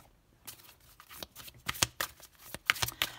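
Tarot cards being shuffled by hand before a single card is drawn, a close run of crisp riffling flicks and snaps that grows denser and louder toward the end, with no talking.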